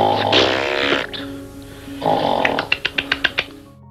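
A sleeping person snores loudly in a harmonic, rasping rumble, breaking off into a pause before another long snore returns, followed by a quick run of about six sharp, evenly spaced clicks close by.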